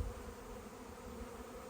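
Honey bees flying around a hive just after disturbance, orienting and gathering on top near the entrance: a steady, close, dense hum filling the short stretch with no voices.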